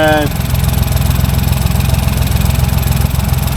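A Ford 1.0 EcoBoost car engine with a failed wet-belt head gasket idles nearby, a steady, loud, throbbing rumble that runs without a break from start to end.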